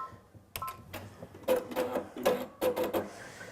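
An embroidery machine stitching a design gives quick, close mechanical ticks and clacks in uneven clusters, with faint tonal whirs between the strikes.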